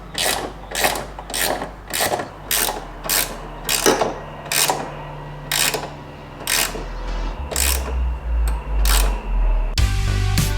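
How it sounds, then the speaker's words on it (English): Fitting a new cyber-style tail light on a Tesla Model Y/3, with a series of evenly spaced mechanical ratcheting bursts as screws are driven in, close and moderately loud, finishing with a denser clatter and low rumble. "now just screw on the inside, same way"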